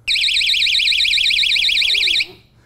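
A small handheld personal safety alarm shrieks with a loud, piercing warble that holds steady for about two seconds, then cuts off abruptly.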